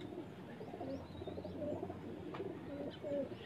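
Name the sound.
Jagge wale pigeons cooing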